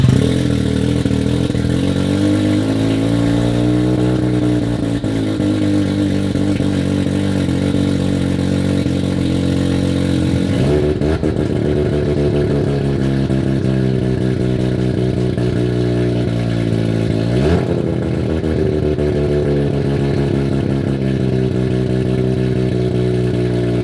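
A Mazda RX7 rotary engine idling and revving steadily and loudly, with repeated blips rising and falling in pitch throughout, no talk over it.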